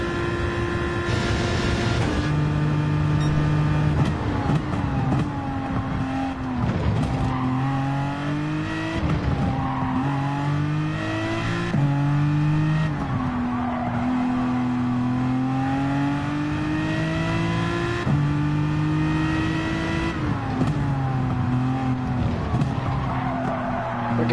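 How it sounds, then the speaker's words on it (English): An Aston Martin GT3-class race car in Gran Turismo 7 screams loudly and continuously, its engine pitch climbing and dropping through gear changes while tires squeal and skid through corners. "I'm driving an Aston Martin GT3 class"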